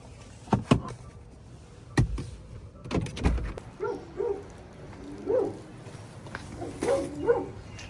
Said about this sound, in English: Some puppies.